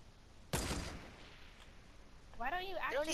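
A single sniper rifle shot cracks out in a Fortnite match, a sharp loud report with a short decaying tail, followed a couple of seconds later by a voice talking.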